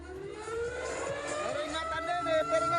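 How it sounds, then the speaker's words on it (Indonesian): Tsunami early warning siren sounding in Gorontalo, Indonesia after a magnitude 7.7 earthquake centred in Mindanao, Philippines, a steady wavering wail heard at a distance, mixed with crowd noise and traffic. "Gempa juga sempat membuat sirine peringatan dini tsunami dibunyikan"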